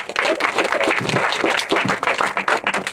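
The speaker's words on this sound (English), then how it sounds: "round of applause for our panelists" Loud applause from an audience at a rally for the Affordable Connectivity Program, thanking panelists; a thick, close crowd of clapping hands that swells and holds steady for several seconds, with no clear speech.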